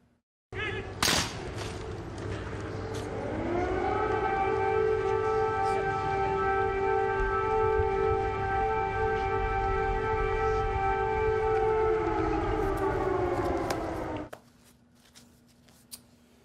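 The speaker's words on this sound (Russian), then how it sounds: "Обратите внимание на вой сирен на фоне" Civil defense air raid sirens wail over Kyiv, a sustained rising tone that swells in and holds steady at high volume for about fourteen seconds before cutting off, with a sharp bang near the start.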